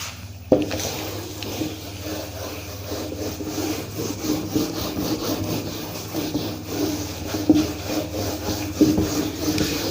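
Writing is rubbed off a board during a maths lesson, a continuous close scrubbing rasp with rhythmic back-and-forth strokes that runs steadily for several seconds, with no speech over it.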